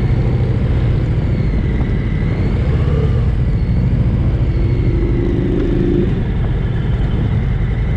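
A 2021 Harley-Davidson Sport Glide motorcycle cruises along, its engine a steady, loud, low drone with wind rush that holds even throughout, and no talk.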